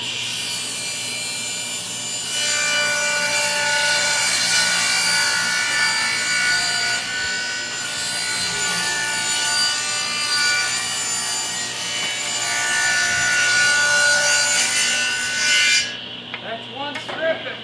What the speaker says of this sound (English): Now I think I'm going to rip this on the table saw.